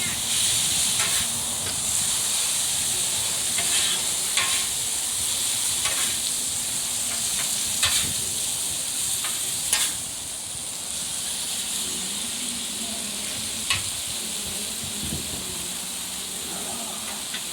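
Onions cook for paella on a Blackstone griddle, a continuous close hiss and sizzle with scattered crackles and pops, a faint voice now and then underneath.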